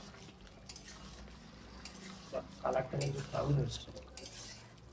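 A spoon stirs chicken curry in a pot, giving a few clinks and scrapes against the metal over a low background simmer while a person talks.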